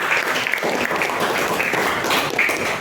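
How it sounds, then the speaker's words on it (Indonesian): A short burst of steady applause from a group, many hands clapping together at even loudness throughout. "Beri tepuk tangan buat Mas Reza."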